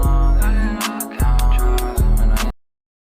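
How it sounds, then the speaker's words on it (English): A thin, band-limited vocal phrase sung over a beat, sounding tinny and boxy like it's coming through a phone line, ending in sudden silence. "throw the telephone preset on there, and it's gonna sound like this."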